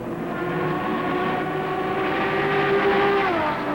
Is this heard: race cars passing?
yes